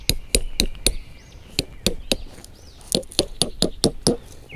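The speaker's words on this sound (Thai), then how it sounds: "ตอกลงไปเลยนะครับ" Sharp metallic hammer strikes driving a tent stake into the ground while pitching a Vidalido Teepee auto tent, in two bursts of rapid blows separated by a brief pause, close and crisp.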